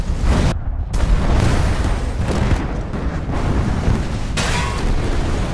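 A loud, sustained rumbling roar of an explosion, broadband and continuous, with billowing blast noise swelling and surging throughout.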